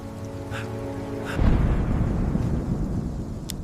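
A rain and thunder storm: a deep rumble of thunder swells in and continues over a steady wash of heavy rain, loud and close throughout.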